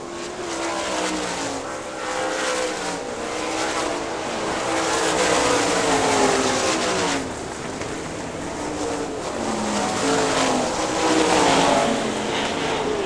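Race cars roar around a track at a Great Lakes Thunder 2000 event, several engines rising and falling as they pass near and fade, with a continuous loud drone throughout.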